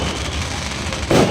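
Crackling, popping bursts of New Year fireworks go off nearby in a dense, continuous rattle, loud and sharp, with a brief stronger burst at the end.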